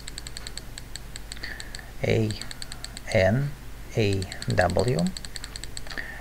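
Rapid ticking keyboard clicks as a code is typed into the Room Boy Escape game, short bursts of keystrokes running throughout while someone speaks over them.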